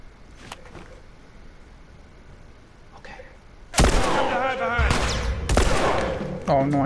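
Gunfire in the video game The Last of Us, a few faint shots early, then loud sustained bursts of close firing with a scream-like voice tone mixed in.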